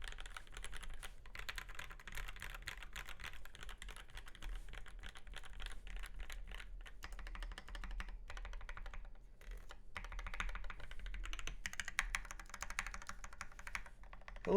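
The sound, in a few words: typing on a custom mechanical keyboard with EV-01 linear switches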